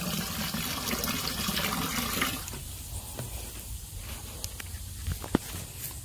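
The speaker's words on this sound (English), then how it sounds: "we're just going to pour a good little amount in there." A pour of vinegar splashing into a container of water for dyeing a cast net, with a steady liquid rush for about two seconds that gives way to quieter drips and small knocks.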